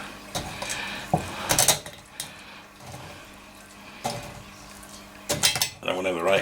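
Elderberries being mashed in a pan on a cooker top, with clattering bursts of metal utensil against the pan, irregular knocks and scrapes separated by quieter pauses, close by.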